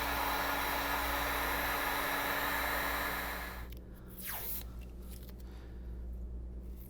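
A heat tool blows hot air onto old grip tape on a golf club shaft, a steady broadband whoosh that cuts off after about three and a half seconds, leaving quieter scraping and handling sounds.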